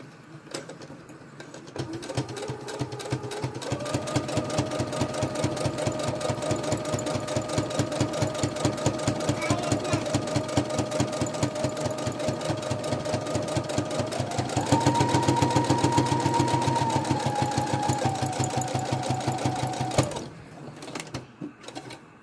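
A threaded sewing machine stitches steadily for about twenty seconds with a fast, even mechanical chatter. Its motor pitch rises partway through as the machine speeds up, then it stops.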